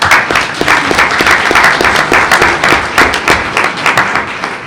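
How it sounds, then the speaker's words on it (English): A crowd at a board meeting applauding steadily throughout, dense clapping at a consistent loud level with a few voices mixed in. "let's give her a round of applause"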